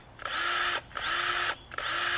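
A DEWALT DCD771C2 1/2-inch cordless drill driver set to its low first speed runs unloaded in three short, even bursts, each a steady high whine with brief pauses between.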